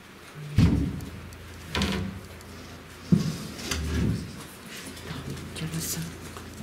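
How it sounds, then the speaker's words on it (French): Several thuds and knocks of a door being shut and handled indoors come in separate bursts, the loudest a sharp slam, with people talking in French around them. "Ça va faire un bruit, alors vous inquiétez pas, c'est la porte."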